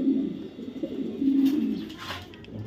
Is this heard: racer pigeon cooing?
yes